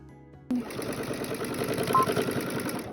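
A sewing machine backstitches quilt binding, starting abruptly after a brief quiet moment and then running in a rapid, steady stitching whir, close and clear, with a voice talking over it.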